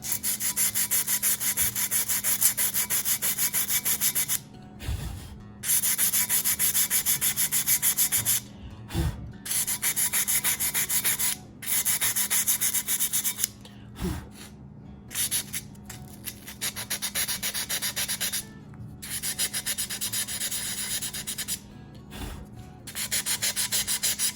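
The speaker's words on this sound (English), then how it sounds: "it's a glaze and can easily be sanded off with basic sandpaper." Sandpaper rubs back and forth over glazed pottery to remove paint, steady close abrasive scratching in long strokes broken by brief pauses, no voices.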